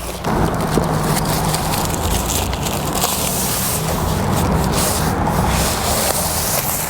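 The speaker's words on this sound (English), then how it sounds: "I generally like to hold the underlayment in place as I'm pulling it out." Underlayment is pulled off a flat tile roof, giving a steady loud rustling and scraping that runs close and unbroken.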